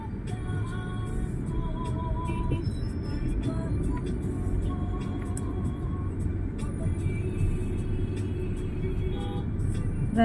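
Steady road traffic near SM City Lucena with tricycles among the cars, a continuous low engine rumble and scattered horn-like tones, with no clear voices.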